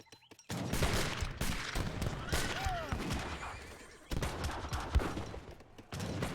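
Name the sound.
musket volley gunfire in video game Age of Empires 3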